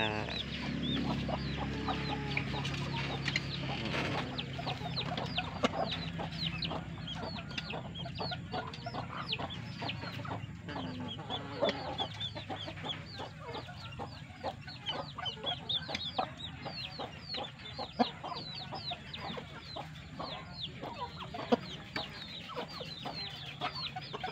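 Many Bangkok fighting chickens cluck continuously in a busy, overlapping chorus, steady and moderately close, with occasional sharper squawks.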